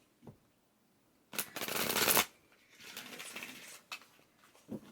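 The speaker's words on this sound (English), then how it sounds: "we're going to pull you one of these numerology cards" Numerology cards being shuffled, a close, crisp riffle of about a second followed by softer sliding and shuffling of the deck, with a few light taps around it.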